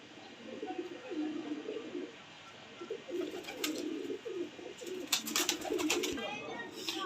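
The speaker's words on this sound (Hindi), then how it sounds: "प्योर इंडियन शाहजहानपुरी कबूतर हैं ये मेरे भाई।" Indian Shahjahanpuri pigeons coo in low, throaty bursts that recur through the clip. Brief chirps and some handling noise sit among them, and a man's speech tags faintly in the background.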